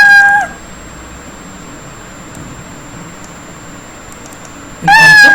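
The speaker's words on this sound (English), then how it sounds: "playing a sound, a meow sound, a sound of cat" A cat's meow, played as a sound effect for a sprite in a Scratch-style programming lesson, sounds twice, clear and close: one brief meow at the start and another at the end, with near silence and a faint steady tone between.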